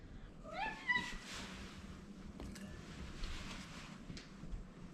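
A large house cat meows a few times in a home kitchen while pizza is being made, one clear close call standing out over faint background noise, with no talk.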